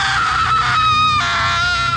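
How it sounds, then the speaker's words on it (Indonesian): A girl screams in pain after her leg is broken in a film, a loud, sustained high-pitched scream that wavers and breaks into a second cry, with no talk over it. "dan dia pun teriak kesakitan."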